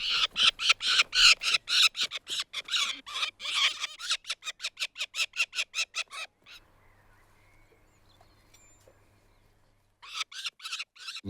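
Young peregrine falcon fledglings give a rapid series of loud, harsh repeated calls for several seconds, then fall quiet before another short burst of calling near the end, heard close with no talking.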